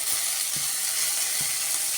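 Banana flower greens fry in a pan with a steady, bright sizzle and a few soft stirring knocks, close and continuous without talk.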